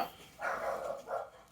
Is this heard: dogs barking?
yes